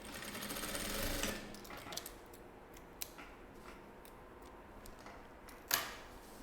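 A sewing machine runs briefly while stitching a safety seam on fabric before a lining goes on, the quiet whir followed by soft clicks and a sharp tap near the end, fairly faint and with no talking.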